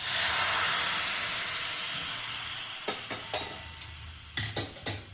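Hot water hits a pot of cluster bean curry with onion and salt, setting off a loud steamy hiss that gradually fades, then a few sharp stirring clanks near the end; no speech.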